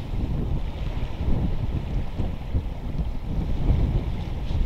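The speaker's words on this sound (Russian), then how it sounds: "Ветрище" Strong wind buffets the microphone in a continuous low roar with gusty surges, heard alone at a lakeside fishing spot in wind and rain.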